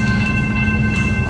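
A Melbourne train sits at a station with a loud, steady, close rumble and hum throughout, with no talk.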